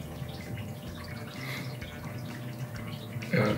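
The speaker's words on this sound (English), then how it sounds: "1 more 2 ounce pour." Two ounces of rum poured while mixing a Menehune Juice cocktail, a soft steady trickle of liquid running for a few seconds, close and fairly quiet.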